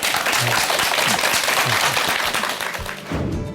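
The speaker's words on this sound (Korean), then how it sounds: "큰 박수 부탁드립니다" An audience at a health lecture claps steadily, a loud dense wash of applause that dips briefly and then swells again.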